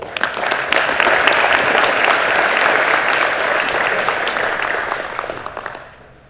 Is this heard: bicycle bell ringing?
no